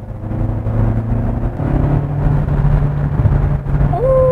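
A Kia Sportage facelift engine drones loudly from close by, its steady roar rising slightly as it accelerates with active sound design on. A short electronic chime sounds near the end.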